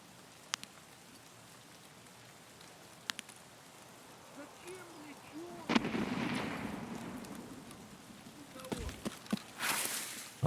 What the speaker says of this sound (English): Someone's spamming nades. At me.